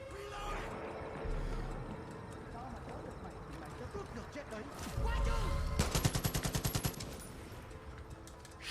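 Gunfire from the video game Hours of Darkness, with scattered shots giving way to a loud, rapid burst of automatic fire near the end, heard over in-game ambience.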